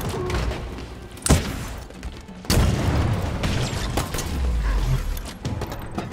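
A power relay is blown apart in the video game Halo Infinite with a sharp cracking impact, then a second heavy, shattering boom. Dense rumbling battle noise continues loudly around and after both hits.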